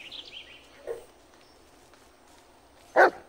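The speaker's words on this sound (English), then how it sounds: "Listen to his barking and watch his body language." A dog barks in the Blair Witch video game, giving a soft yelp early on and then one loud, sharp bark near the end against a quiet background.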